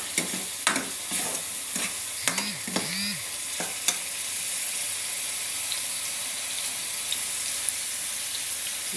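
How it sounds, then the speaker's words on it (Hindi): Okra fries lightly in hot ghee, giving a steady sizzle with a few sharp clinks and scraping stirs early on, then settling into an even crackle. "मैंने थोड़ा सा घी गरम किया और इसमें मैं जो है भिंडियों को जो है हल्का हल्का फ्राई करूँगी"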